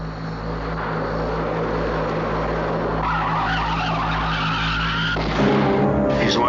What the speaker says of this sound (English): that's what I heard just before the tire blew out